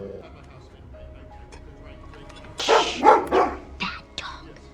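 A dog barks in a short burst of several loud, close yips and barks near the end, after a stretch of quiet talk in a home.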